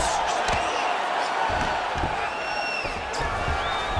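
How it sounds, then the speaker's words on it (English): Arena crowd at a UFC-style bout roaring and cheering as the grappling fighters get back to their feet, a broad steady swell of voices with a few whoops and whistles, close and loud. "big pop from the crowd as they get back to their feet"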